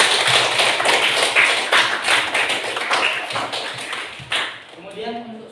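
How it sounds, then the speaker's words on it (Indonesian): Group applause from a gathered audience, a dense wash of many hands clapping steadily at close range before tapering off near the end. "Beri tepuk tangan untuk kita semua"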